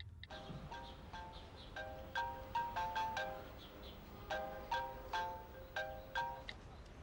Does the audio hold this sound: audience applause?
no